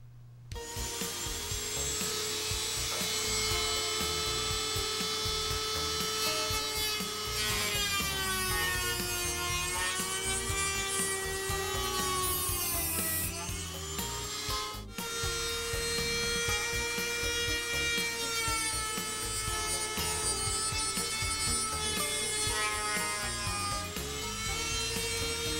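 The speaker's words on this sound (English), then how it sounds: "I'm going to use a Dremel tool." A Dremel rotary tool cuts into wood while building I-beam model wings, a sustained high whine that rises and dips in pitch as the bit loads up and frees, briefly stopping midway and then running on steadily.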